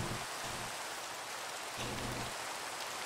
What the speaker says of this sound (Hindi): वैसे इतना बरसात होना नहीं चाहिए यार, देख रहे हो